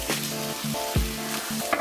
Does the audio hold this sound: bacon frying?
yes